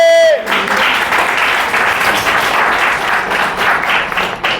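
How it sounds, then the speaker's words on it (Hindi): A church congregation bursts into sustained applause for Jesus during a Hindi sermon, a dense, steady wash of many hands clapping that follows a brief spoken phrase and carries on loud and unbroken. "बजाओ ताली यीशु के लिए"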